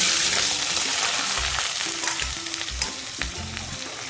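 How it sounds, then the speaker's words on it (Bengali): Squash frying in hot oil with a bay leaf, a loud dense sizzle fading slightly over time, with low knocking thuds of a spoon stirring the pan, no voices. "স্কোয়াশগুলি ঢেলে দিব"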